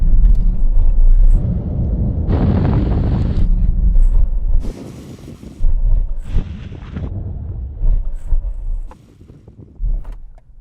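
A BMW X6M, Audi RS Q8 and Porsche Cayenne Turbo S drag race. Loud surges of engine roar and rumble alternate with heavy wind buffeting and quieter gaps, recorded close up.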